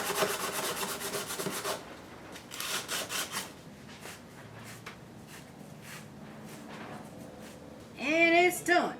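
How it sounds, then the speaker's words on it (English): Slow rasping strokes of sandpaper worked by hand over a wooden frame, coming in bursts with pauses between them. A voice speaks briefly at the end. "And then I gotta finish it off with hand sanding."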